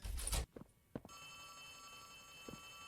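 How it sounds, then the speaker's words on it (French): A telephone rings in the horror video game Poppy Playtime Chapter 3, a steady electronic bell that follows a few short clicks and knocks and then holds alone under quiet room tone. "Le téléphone sonne"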